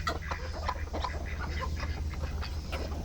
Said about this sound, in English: Look at those baby chickies. Wonderful. And these mama hens have been sitting on a bunch of eggs.